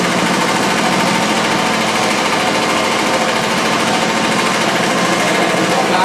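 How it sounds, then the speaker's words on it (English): A carpet-agitation machine beats ground-in dirt out of an oriental Persian area rug, giving a loud, continuous rattling mechanical drone with a dense, fast vibrating texture throughout. "the agitation from the machine agitates the carpets upside down and beats out the grounded dirt"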